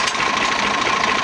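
A tractor engine idles close by on a farm with a steady low rumble and a faint rhythmic knock, brief and without talk.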